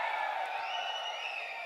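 An audience at a Kangen Water speaker event cheers and whoops briefly, a steady wash of crowd noise that stays fairly faint and distant.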